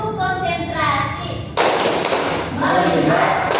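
A class of schoolchildren playing a concentration clapping game: a chanted call, then a loud burst of group hand claps, followed by more voices and another round of claps.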